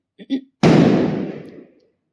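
After a short voice, a single loud Diwali firecracker bang goes off close by, its crackling tail fading out over about a second.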